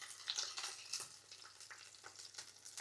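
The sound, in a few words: frying pork pieces one by one in oil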